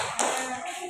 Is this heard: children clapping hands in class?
yes